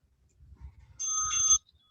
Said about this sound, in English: Ignore that bell.